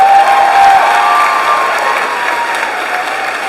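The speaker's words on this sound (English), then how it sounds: "You can clap." Steady audience applause fills a high school graduation ceremony, a dense wash of clapping hands from a large crowd that holds for several seconds and slowly tapers off.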